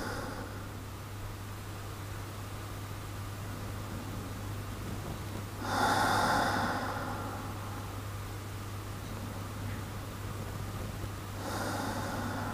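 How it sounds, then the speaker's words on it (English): Two soft, breathy exhales during a power yoga session, one long and one briefer, drifting over a steady low hum. "And an exhale."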